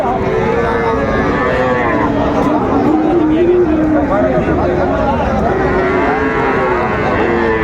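Young Shahiwal bull calves low continuously in drawn-out moos, close and loud, over the chatter of a crowded cattle market.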